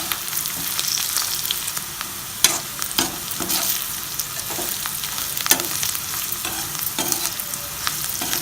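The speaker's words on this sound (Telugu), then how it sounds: "ఇప్పుడు దీంట్లో మనం డీప్ ఫ్రై చేసి పెట్టుకున్న కాకరకాయ ముక్కలు కూడా వేసుకోవాలి" Deep-fried bitter gourd pieces go into a pan of sautéed onions and are stirred, giving a steady hissing fry broken by repeated spoon scrapes and knocks at an uneven rhythm.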